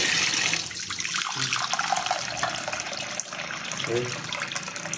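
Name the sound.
muddy water running from an opened tap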